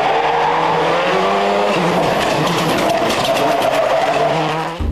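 A 2002-era World Rally Championship car races hard close by on a test run before the Rally of Catalonia, engine revving high and shifting through gears with tyres scrabbling, loud and continuous.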